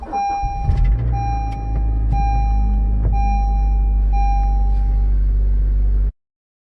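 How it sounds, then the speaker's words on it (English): A car hums steadily from the start, with a few sharp clicks and a thin tonal whine over the engine drone, all heard through a phone recording before it cuts off abruptly. "what you're going to hear is the sound of the car and then compared with the sound from her phone"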